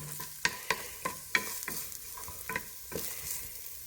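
A whole cup of onions is stirred into hot oil with garlic for a beef stew, sizzling steadily as a utensil scrapes the pan in repeated sharp strokes, close and without talk.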